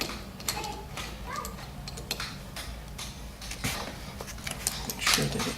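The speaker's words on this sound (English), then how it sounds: "then it gets tight all of a sudden, and then you just crank it down." A hand ratchet clicks in quick irregular bursts, tightening the starter clutch bolt on a 1978 Kawasaki KZ750 motorcycle, with sharp metallic ticks and a few heavier clunks near the end.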